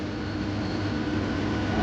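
A train rolls into Andul station with a steady low rumble and hum that stays even across the short clip, and no voices are heard.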